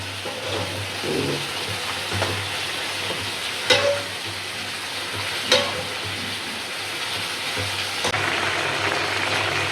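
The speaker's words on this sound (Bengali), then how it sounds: "আর এই যে শাক ভাজি করতেছি" Bottle gourd leaves stir-frying in a pan, a steady close sizzle broken by a few sharp clacks of the spatula against the pan.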